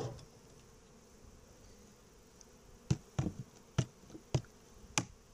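Honey bees buzz around an opened beehive while smoke is puffed in, with several sharp knocks and taps of hive tools or frames cutting through a low, steady hum.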